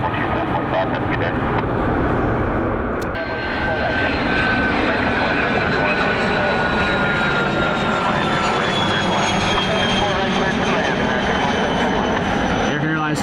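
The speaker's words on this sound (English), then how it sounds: "American Airlines 2731, 737 inbound from Dallas. It will be our next inbound flight this afternoon." An American Airlines Boeing 737 jet inbound from Dallas to Cleveland Hopkins roars loud and steady with a rising engine whine, while a voice talks over it.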